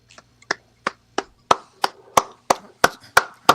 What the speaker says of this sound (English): I'm helping to welcome myself here onto the show by applauding my own self.